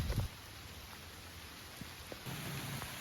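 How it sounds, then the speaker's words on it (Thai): Heavy rain falls steadily in a forest, a dense, even hiss with a few scattered louder drops and a brief thump at the start, and no one speaking. "ตอนนี้เนี่ยฝนตกหนักมากๆนะครับ"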